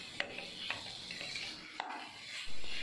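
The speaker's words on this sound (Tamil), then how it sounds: "இப்போ மசாலா வெல்லம் ஒன்றா சேர்த்து நல்லா வதக்கி விடுவோம்" Masala and jaggery being sautéed in a pan for Chettinad tomato rice, with soft scraping and stirring and a few light utensil clinks against the pan, quiet and close.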